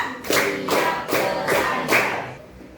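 A class of students claps in a counted classroom cheer game, giving five loud bursts of group clapping spaced about every half second, with no talk over them.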